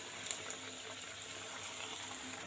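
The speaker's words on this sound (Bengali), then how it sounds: "এবার বাদবাকি যে নিমকিগুলো আছে একইভাবে কিন্তু ভাজে নিই" Nimki, crisp Bengali flour snacks, fry in a small amount of hot oil, producing a faint, even bubbling sizzle with a few tiny pops.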